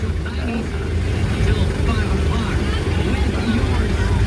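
A dump truck passes on a road, its steady engine rumble and tire roar filling the clip with continuous broadband noise, loud and close throughout without pause.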